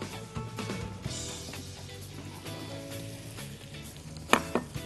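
Butter and a drop of oil sizzling in a pan with chili pepper and dried mint for a white soup, a moderate steady frying hiss with a few sharp utensil clinks near the end.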